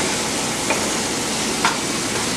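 Onion and garlic fry in a pan for an egg curry, giving a steady, dense sizzle close up with a couple of faint clinks from stirring.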